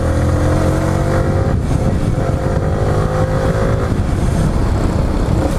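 Riding a Yamaha R15 v3 motorcycle, the engine drones steadily up close with clear harmonic tones that rise and shift slightly as it revs, blended with wind rush and road noise.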